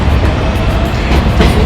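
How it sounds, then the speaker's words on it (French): Subway train rumbling through a New York City metro station, a loud steady roar with faint rattling, heard alone without voices. "on est à l'arrêt de métro"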